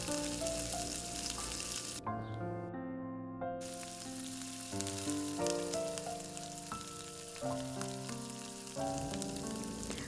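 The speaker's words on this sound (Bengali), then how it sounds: "ভালোভাবে এটা নেড়ে চেড়ে ভালো করে কষে নিতে হবে।" Ground coriander, cumin and turmeric powder being stirred and fried in a pan, a steady soft sizzle with scraping, nearly buried under loud tonal music throughout.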